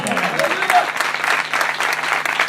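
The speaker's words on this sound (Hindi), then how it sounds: "इनके लिए जोरदार तालियां" An audience at a Christian gospel gathering gives a loud, dense round of applause for an honoured guest. The clapping is steady and sustained, and it fills the whole stretch close up.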